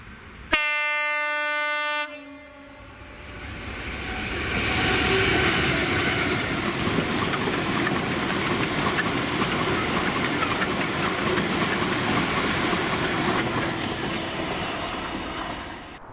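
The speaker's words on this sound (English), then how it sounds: "Royal Scotsman livery 66743, and a rather unusual rake of 13 VGA van wagons" MOD freight train with Royal Scotsman livery locomotive 66743 hauling a rake of 13 VGA van wagons in Scotland sounds a short two-tone horn blast, then rumbles past loudly with a steady roar and rhythmic clickety-clack of wheels.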